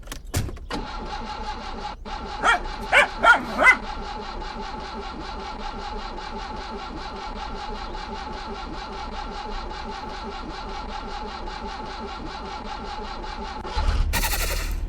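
A modded BMW engine in the game My Summer Car cranks with a few sputtering bursts, catches and settles into a steady mid-pitched idle, then a brief louder burst near the end.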